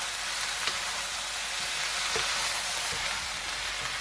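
Pork, mushroom and cabbage stir fry sizzles steadily in a hot pan as it is stirred, a dense, even hiss lasting throughout with a few soft clinks of the utensil.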